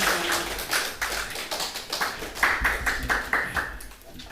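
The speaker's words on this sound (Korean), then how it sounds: "우리 함께 이렇게 박수 해주시기 바랍니다." A church congregation at a Sunday worship service claps for a missionary from Indonesia, with sharp, close hand claps in an uneven rhythm that fade toward the end, and faint voices underneath.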